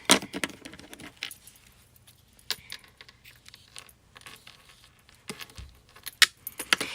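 Strong linen thread clicks during paper crafting, producing sparse, sharp little ticks and rattles scattered irregularly over a quiet background.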